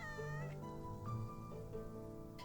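A cat in the Shared Lanterns video game lets out a couple of clear, close, drawn-out meows one after another, with nothing else over them.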